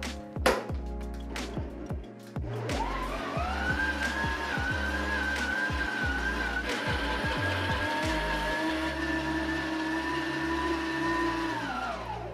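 A stand mixer kneads lemon poppy seed brioche dough at speed 2: a few clunks and knocks, then the motor starts and holds a steady, loud whirring hum that shifts slightly near the end.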